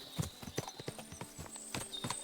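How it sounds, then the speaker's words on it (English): Horses clip-clopping in the video game Kingdom Come Deliverance 2: a quick, uneven run of hoof clops from several animals moving close by, fairly quiet and with no talk over it. "What a lot of horses!"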